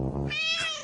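A pet cat in a children's cartoon gives a single short, clear meow, loud and close, alone with no talk over it.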